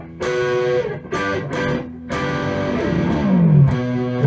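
Distorted electric guitar strums short, punchy horn-style chords in a rhythmic burst, then a sliding note and a sustained chord ring out; loud and close, no talk.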